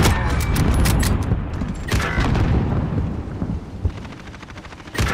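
AS VAL rifle fired in a first-person shooter search-and-destroy match, rapid repeated bursts of gunfire with booming impacts, loud and close, fading into quieter scattered shots.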